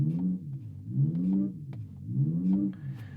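An Abarth 600e electric car's artificial engine sound generator plays a synthetic revving drone, rising and falling in three repeating swells like a blipped throttle, with a faint electronic tone near the end.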